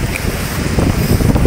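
Strong super typhoon wind in Bicol roaring continuously across the microphone, a loud, steady buffeting rush with no pauses.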